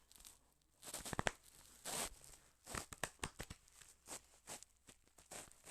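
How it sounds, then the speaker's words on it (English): A deck of tarot cards is shuffled in soft, irregular bursts of riffling and sliding card noise, close and quiet, with no one speaking. "But let me go ahead and shuffle this deck."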